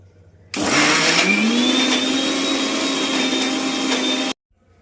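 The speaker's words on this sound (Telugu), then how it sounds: "మిక్సీ పట్టుకోవాలి" A mixer grinder whirs loudly and steadily for about four seconds grinding ridge gourd peel, tomatoes, garlic and cumin into chutney, its pitch rising slightly as it spins up, then cuts off abruptly.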